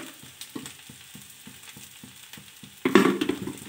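Vegetable curry sizzles gently in a pan with soft rhythmic stirring, then a louder burst of frying as salt and spices go in near the end; no one speaks.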